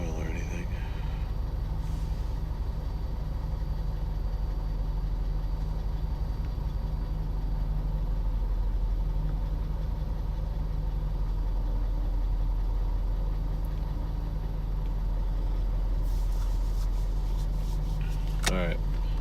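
A car engine idles with a faint ticking over a steady low rumble that carries on unbroken for the whole stretch, heard from inside the car.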